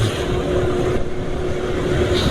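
A car engine running steadily at mid RPM while cruising on engine oil treated with a zinc, copper and molybdenum sulfate additive, giving a continuous even drone with a faint hum and no breaks.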